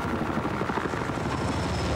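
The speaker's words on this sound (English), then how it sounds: "Listen up, enemy helicopter south of your current position." An enemy helicopter in Battlefield 4 flies nearby, its rotor chopping in a steady, rapid pulse over a dense engine roar that stays loud and constant, with no talk.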